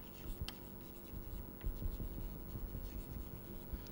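Writing on a board during a fluid dynamics lecture, soft scratchy strokes and taps over a low steady room hum, with a lecturer's voice faintly present.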